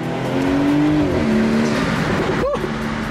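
A BMW 340i M Sport fitted with an MST intake revs and drops pitch as it downshifts, with a sharp crackling pop near the end; a passing-car engine note stays fairly close and prominent over roughly three seconds.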